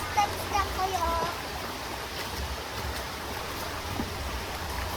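River water flows with a soft, continuous rushing hiss, steady and moderately distant throughout.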